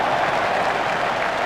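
A cricket Test crowd applauds Michael Vaughan's century for England against New Zealand, a dense, steady wash of clapping that stays loud and even throughout.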